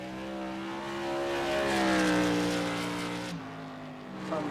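A race car runs a qualifying lap at New Smyrna, its engine a loud, close, tonal whine that rises and then drops sharply as it passes, followed by a lower, fading drone.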